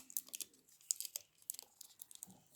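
Close, crisp crinkling and tearing of parchment paper in short bursts, a stiff sheet being peeled away bit by bit.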